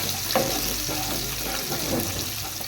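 Small onions tossed into hot oil for a North Indian style sabzi give a continuous dense sizzle with a few soft knocks of a utensil against the pan, close and steady throughout.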